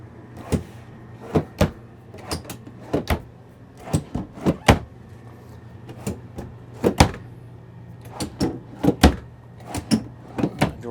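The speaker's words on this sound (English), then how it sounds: "Doors all operate fine." Cabinet doors inside a 2016 Venom 5th wheel trailer are opened and shut repeatedly, giving sharp knocks and clacks in an irregular rhythm over a low steady hum, with no voices.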